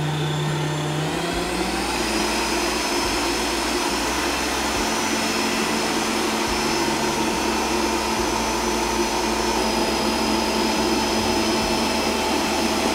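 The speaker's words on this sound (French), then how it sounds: "je mets le robot en vitesse maximale pour obtenir une belle meringue suffisamment ferme" A Cooking Chef stand mixer whips Swiss meringue at maximum speed, giving a loud, steady motor whine with a constant drone that rises as it ramps up in the first seconds and then holds unbroken throughout.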